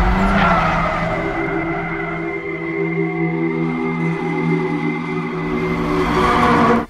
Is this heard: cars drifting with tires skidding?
yes